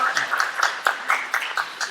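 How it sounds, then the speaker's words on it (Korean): Seminar audience at a startup event giving a short burst of applause, a few scattered claps standing out under a speaking voice. "큰 박수로 감사의 표현하겠습니다."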